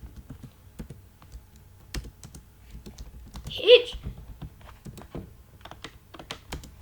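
A computer keyboard clicks in steady bursts of close typing as HTML and CSS code is written, with one brief louder blip in the middle; no one talks over it.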